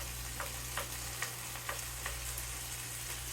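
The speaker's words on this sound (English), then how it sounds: "So we'll let our potatoes cook up, and then once they have started to brown" Potatoes frying in a pan for a roasted poblano and potato quiche: a steady, close sizzle with small regular crackles and pops, continuous and alone.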